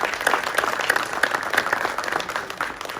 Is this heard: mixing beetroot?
no